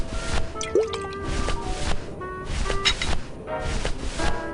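Dirty hookah water sloshing in a sink in the Grim Fandango video game, with wet drips, squishes and gurgles running steadily and fairly close throughout.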